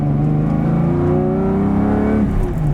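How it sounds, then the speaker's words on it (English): A car engine in a video game revs and accelerates loudly, its pitch climbing smoothly through gears in a continuous, close, synthetic-sounding roar. "Oh, the sound of that engine."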